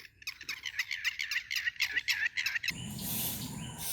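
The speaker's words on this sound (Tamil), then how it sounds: "நிறைய சிவப்பு நிற ஆட்காட்டி நிற்குது பாருங்க." Red-wattled lapwings call in a wetland park with rapid, repeated shrill piping notes, then the calls break off into a broad rushing background noise.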